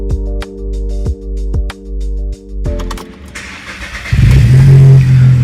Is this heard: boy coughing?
no